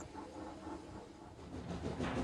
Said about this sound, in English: he let out a sad wheesh of steam